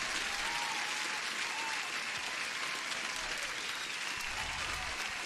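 Clapping from a small crowd of participants in a live London-session day-trading stream, heard as a dense, even wash of applause that stays constant for about five seconds, fairly faint and without talk over it.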